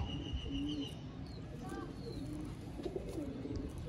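Sialkoti pigeons cooing in a loft, soft repeated low coos and a few faint chirps over steady background hiss, close but quiet, with no talking.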